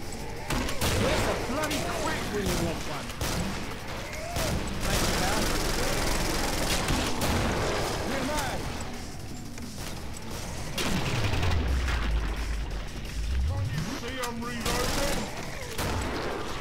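Gunfire and grenade blasts in the video game Killing Floor roll on continuously and loud, with a deep descending-then-rising rumble from a large explosion near the end; voices talk over the barrage.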